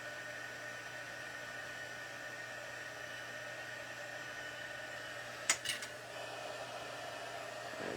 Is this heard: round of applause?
no